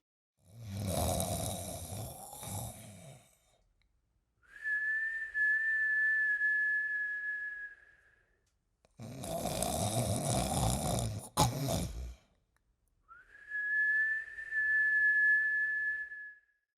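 A person imitates snoring with two long, rasping inhaled snores, each followed by a steady whistling exhale, separated by brief silences.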